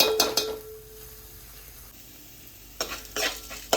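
Okra fries in oil with garlic and curry leaves while a spatula stirs and scrapes the pan in short, bright bursts at the start and end, with a faint steady sizzle in between.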